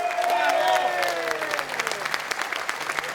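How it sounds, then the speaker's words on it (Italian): An outdoor concert audience in a town square applauds a band member, the dense clapping rising under a voice speaking over a microphone and a sustained held note from the stage at the start. "L'applauso meritatissimo questa sera per Simone"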